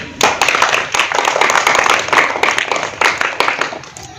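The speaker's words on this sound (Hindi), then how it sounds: "अच्छा, बजा ताली।" A small group claps on cue during an Awadhi comedy sketch in which a politician character demands applause, a brisk, steady run of close hand claps lasting a few seconds.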